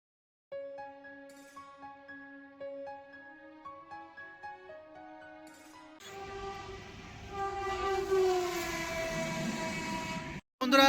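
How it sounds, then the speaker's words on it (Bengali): Train ride from Bardhaman station toward Mankar: a long horn-like tone sounds for several seconds, then the loud, steady rumble and rattle of rolling wheels and carriages with some screeching. No one talks. "বন্ধুরা আমরা ট্রেনে ইতিমধ্যে ফাইনালি উঠে পড়েছি"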